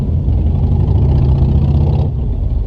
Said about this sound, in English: very loud motorbikes